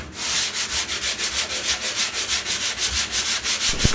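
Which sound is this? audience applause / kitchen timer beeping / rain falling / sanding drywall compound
sanding drywall compound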